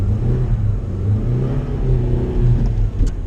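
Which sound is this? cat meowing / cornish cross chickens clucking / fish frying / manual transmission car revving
manual transmission car revving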